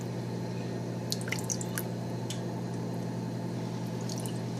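About two tablespoons of red wine vinegar trickle into a pot of clam chowder, a few faint, scattered drips and splashes over a steady low background hum.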